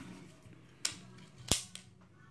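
A Diana Bandit .22 air pistol fires a pellet, one sharp crack, with a softer pop just before it and a faint click just after, over quiet room hum.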